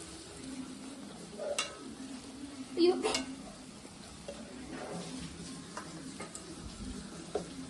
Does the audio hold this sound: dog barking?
no